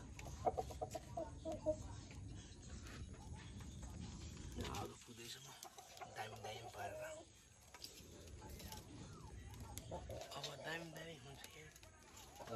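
Chickens cluck and squawk nearby, mixed with background voices and outdoor commotion throughout.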